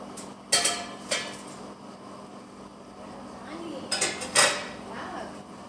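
Pots and metal utensils clank in a home kitchen while shrimp cooks, a few sharp knocks and scrapes in two short bursts over a quiet background, with someone speaking.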